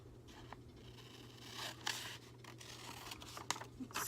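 Scissors trimming the edge of a printed photo for a journal: soft, close snips and papery scratching over a low steady hum, growing slightly busier toward the end.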